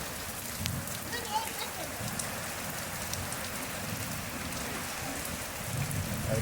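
Light rain falls steadily on a tin sheet roof, a continuous soft patter with no clear pauses.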